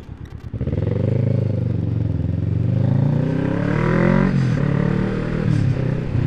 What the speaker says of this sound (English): At least the motorbike sounds nice.